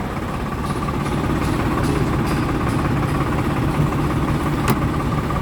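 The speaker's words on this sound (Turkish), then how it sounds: "Şu an kuyruk mili şöyle çalışıyor. Şu an 540." A Case JX65 tractor runs with its power take-off shaft engaged at 540 rpm, a loud, steady diesel drone and mechanical rumble holding constant throughout, close by, with no talk.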